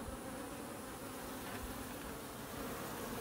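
A dense, steady buzz of many honey bees in a hive fills the air, close and continuous without a break.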